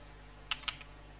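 A few quick keystrokes click on a computer keyboard while code is typed, two or three crisp taps close together against a quiet, humming background.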